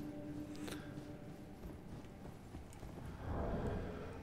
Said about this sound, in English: We do a pretty good job when we just stay on the horse.